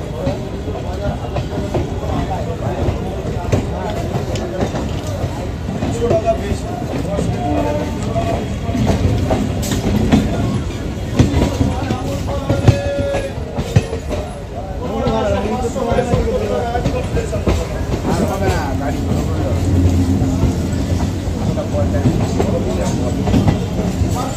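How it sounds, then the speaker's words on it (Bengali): A Ranaghat-Gede local train pulls away, its carriages rumbling with steady clickety-clack from inside, while a hubbub of passenger chatter runs underneath. "আমাদের ট্রেন রানাঘাট গেদে লোকাল এখন ছাড়লো তার নির্দিষ্ট সময় 8:45"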